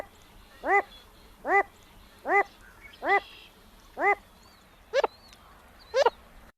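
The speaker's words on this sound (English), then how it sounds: "they make this really, delicate call as well, this kind of a light woofing noise" A Wilson's Phalarope gives a light, delicate woofing call, seven short evenly spaced notes about a second apart, clear and fairly close against a quiet background.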